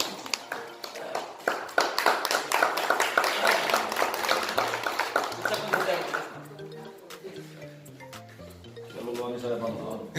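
Audience applause at a school retirement ceremony for a staff member being honoured with a turban, a dense burst of clapping for about six seconds that thins out, with voices and music continuing underneath.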